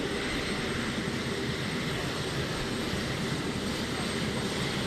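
Air Force One and Marine One at Kahului airport on Maui roar continuously, a broad, steady engine wash heard from about 200 feet away with no voices over it.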